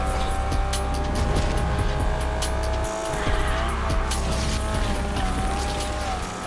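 A race car in Need for Speed Unbound drifts with sustained tire squeal over a steady roaring engine, the skid holding loud and continuous, briefly dipping mid-clip before resuming.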